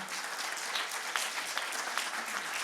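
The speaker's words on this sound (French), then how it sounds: "On va vous applaudir bien sûr." Audience applause at the Banque de France award ceremony for best financial article, a steady dense wash of many hands clapping throughout, close and even, with no voices.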